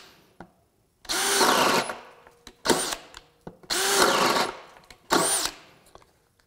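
DeWalt DCD791 compact 20V drill on a 4 Ah battery boring with a 1.5 inch spade bit, four loud close bursts of whirring cut with short pauses between, the longer runs straining.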